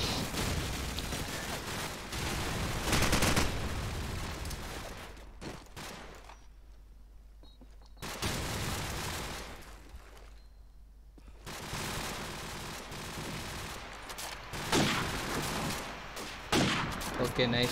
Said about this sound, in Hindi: सी को कुछ क्विक शॉट मारते हैं